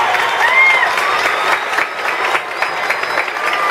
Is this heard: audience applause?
yes